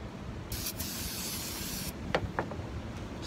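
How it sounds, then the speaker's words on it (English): Aerosol spray from a can hisses in one sustained burst of about one and a half seconds, followed by a few short light taps and clicks, close and fairly quiet. "Spray it down."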